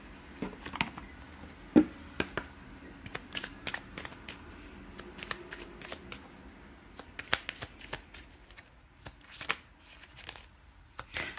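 A deck of medicine oracle cards is shuffled by hand in repeated crisp riffles and flicks, close and fairly quiet in a calm room, with no talking.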